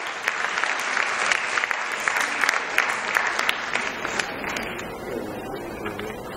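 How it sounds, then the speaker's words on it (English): Audience applauding a guest at a Save the Children centenary celebration in Nigeria, dense clapping from a crowd that holds steady, then thins and fades near the end. "Put your hands together for her."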